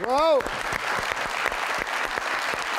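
A studio audience on a talk show claps continuously, with distinct close claps repeating under the crowd, after a short vocal sound at the very start.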